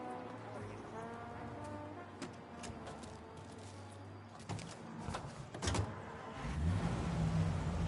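A car driving in the video game Mafia, heard as a quiet, steady engine drone and low road rumble that grows slightly louder and rougher toward the end.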